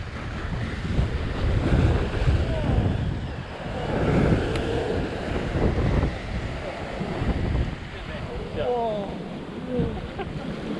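Waves surge and wash against a rocky fishing shore, a steady loud roar with wind buffeting the microphone and a few faint voices briefly audible.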